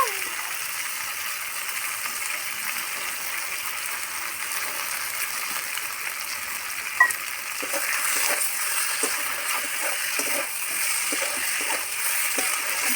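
Masala with fried cauliflower is stirred for a hilsa fish curry, a soft even sizzle with a sharp clink partway through and light scraping taps after it.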